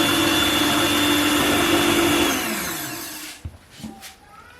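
A kitchen blender whirs loudly and steadily while blending cooking oil into homemade mayonnaise, then winds down and stops, leaving a few soft clicks and clatters.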